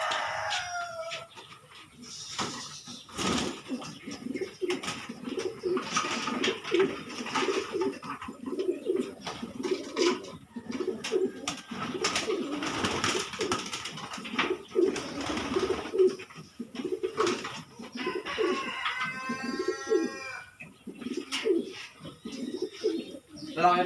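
Pigeons in a loft coo in repeated, rhythmic bursts at close range, with other birds calling now and then and people talking intermittently in the background.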